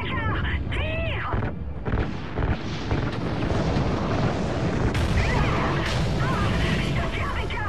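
Explosions and gunfire in the video game Call of Duty: Ghosts as fuel lines are set alight, a dense, continuous roar of blasts and shots with voices talking and shouting over the top.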